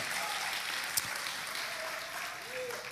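Congregation applauding in worship at a Brazilian Portuguese church service, a steady, even wash of clapping across the whole stretch with a few faint voices mixed beneath it.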